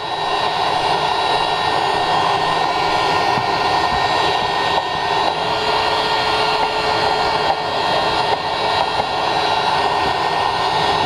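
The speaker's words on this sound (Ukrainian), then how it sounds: "видно, як пилісос її засмоктує" A drill bores into the intake manifold of a Fiat 500X 2.4 MultiAir while a vacuum cleaner sucks up the chips, giving a loud, steady whirring drone that runs unbroken, close by and without talk.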